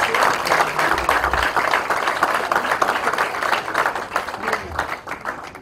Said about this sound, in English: ladies and gentlemen, big round of applause